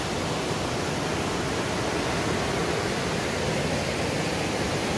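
Cachoeira das Bromélias, a waterfall reached through a farm, roars as a steady, dense broadband rush of falling water, close and continuous with no breaks throughout.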